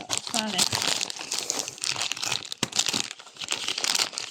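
Christmas present being unwrapped, loud close crinkling and tearing of wrapping paper in irregular bursts, with a voice speaking at times over it.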